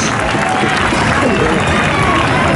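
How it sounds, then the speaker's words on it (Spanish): A crowd at a Goyesco contest in Casetas, Zaragoza, applauds and cheers, a loud, continuous roar of clapping and babble filling the whole stretch. "Fuerte el aplauso para las casetas"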